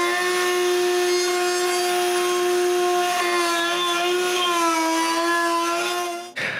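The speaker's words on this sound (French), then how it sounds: "mais visser le support en place, c'est pas aussi facile que je pensais." A power screwdriver drives a screw to fix a support onto a homemade wooden edge sander, giving a steady, close whine for about six seconds before it stops abruptly.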